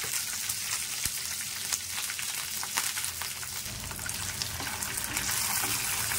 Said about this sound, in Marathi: तेल तपल्यावर आता आपल्याला मिरची आणि लसूण घ्यायचं आहे।